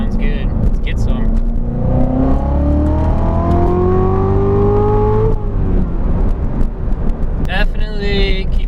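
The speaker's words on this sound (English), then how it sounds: "That exhaust note sounds pretty good." Chevrolet Cobalt SS with a ZZP performance exhaust revving sharply on a rev-matched downshift, a loud rising engine note that blips and then falls away, heard from inside the car with a voice speaking near the end.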